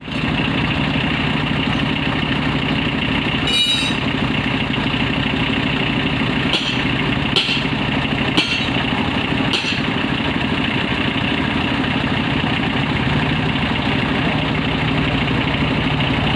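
A tractor engine idles steadily, loud and close, with a constant low chugging throughout and a few sharp clicks and knocks.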